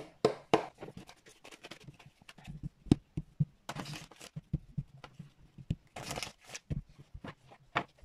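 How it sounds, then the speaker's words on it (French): Tarot cards are shuffled by hand close up, with quiet riffles and soft slaps followed by a few brief rustling bursts. "Je vais procéder au brassage des cartes."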